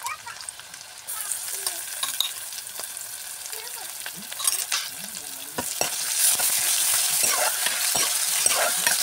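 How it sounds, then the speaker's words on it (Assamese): Ginger, garlic and chili paste with onion sizzles and crackles steadily in a hot pan, with occasional stirring scrapes, the frying growing slightly louder and denser toward the end. "অকণমান সময় ভাজি ল'লে এনেকৈ"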